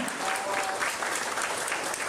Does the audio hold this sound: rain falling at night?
no